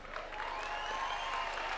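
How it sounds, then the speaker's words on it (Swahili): A large crowd at a political aspirants' meeting at State House in Nairobi claps in steady, sustained applause that stays even in loudness throughout. "simama tukupige makofi."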